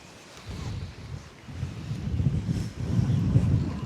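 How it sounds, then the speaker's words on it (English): Gusty wind by a riverside outdoor cooking spot buffets the microphone in low rumbling waves that swell and ease, growing stronger toward the end. "if the wind continues to be too breezy."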